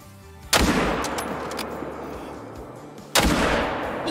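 Two loud rifle shots from a hunting video game set in a whitetail deer hunt, each a sharp blast with a long rolling echo, spaced about two and a half seconds apart over quiet outdoor ambience.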